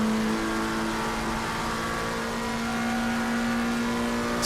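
McLaren race car in Assetto Corsa Competizione holds a steady, loud engine note throughout, a sustained high drone with no pauses or voices.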